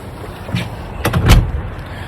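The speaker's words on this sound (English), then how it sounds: "let me close this door" A door being pulled shut in a hotel complex early in the morning, giving a few close, solid thuds and knocks over a short burst, with a low rumbling background.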